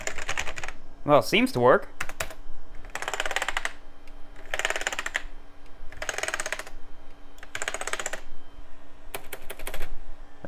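Keys on an Acer Aspire 575LB laptop keyboard are tapped in several short, separate bursts of rapid clicking with pauses between them, close up, and someone speaks briefly early on.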